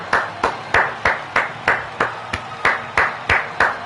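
Crowd at a wrestling show clapping in a steady rhythmic beat, about three claps per second, sharp and fairly close, with no voices over it.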